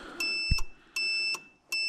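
An electrical tester hooked to a power box in a wet car gives three or four short, bright electronic beeps in a steady rhythm, with a soft thump near the start.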